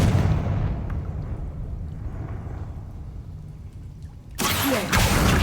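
Confringo fire spell in Hogwarts Legacy bursting into a loud, broad explosion that rumbles and decays, then a second blast erupts near the end.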